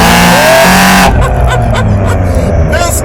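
A 2016 Cadillac ATS-V engine accelerates hard after a downshift, a loud close roar with rising tones that sharpens abruptly about a second in and keeps pulling.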